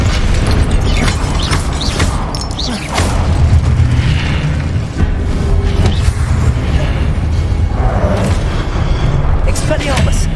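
Confringo, a fire spell in the game Hogwarts Legacy, sets off booming, rumbling blasts amid constant loud game noise and clatter, with a voice talking over the din.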